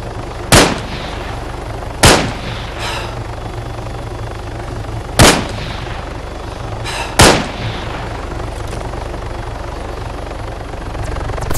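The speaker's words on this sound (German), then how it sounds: "Jetzt haut er ab mit meinem Heli" Helicopter flying off in the ARMA III game, a steady rotor and engine drone underneath, broken by four sharp, loud gunshot-like cracks spaced a few seconds apart.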